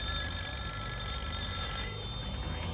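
A telephone rings steadily in a domestic scene from an old Turkish film, a continuous bell-like tone over a constant background hiss, no voices.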